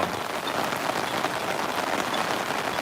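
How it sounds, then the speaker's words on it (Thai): Heavy rain falls in an open car park, a dense, steady broadband patter with no pauses, fairly close and even in level throughout. "ฝนก็ไม่เบาเลยนะครับ"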